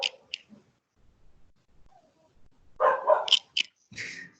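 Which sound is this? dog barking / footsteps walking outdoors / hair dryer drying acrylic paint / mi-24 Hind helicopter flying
dog barking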